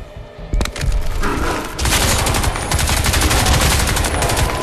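Sustained gunfire in the video game Crysis 2, a loud, dense rattle of rapid automatic shots that runs continuously after a couple of opening blasts, close and with no talking over it.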